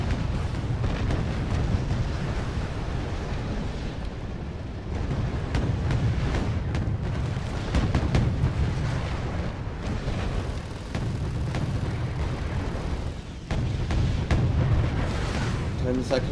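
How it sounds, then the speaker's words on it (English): Tanks fire in the video game Wargame AirLand Battle: dense, rumbling booms and explosions keep up a continuous low roar, while a commentator talks over them. "Firing line of tanks here."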